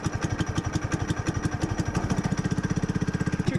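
Small go-kart engine on a 1941 Willys replica kart running just after a start, a close, loud, rapid chugging putter with a steady pulse that quickens slightly toward the end.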